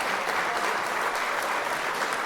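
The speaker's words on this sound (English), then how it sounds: "Hit an applause on that thing real quick, man." Steady, dense applause from a studio audience fills the whole stretch at even loudness, with no talking over it.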